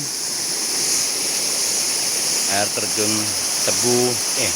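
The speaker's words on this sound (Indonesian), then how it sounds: "Sebenarnya bukan air terjun ya, karena aliran sungai yang benar-benar dari gunung" A mountain river on Lombok, Indonesia, rushes steadily and continuously, with a voice speaking briefly over it near the end.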